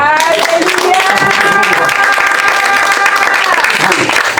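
A church congregation claps and cheers loudly and continuously during a French-language service, with voices calling out over the steady applause.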